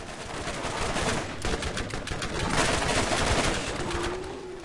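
Submachine guns rattle in Borderlands combat, a dense, continuous stream of rapid gunfire that stays loud and close throughout, with no speech.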